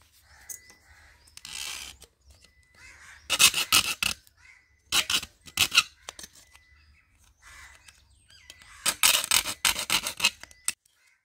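Electrical wire insulation being cut and stripped with a blade while wiring an extension board with a 3-pin socket and switch, giving several short bursts of rasping, scraping strokes separated by pauses, fairly close and without talk.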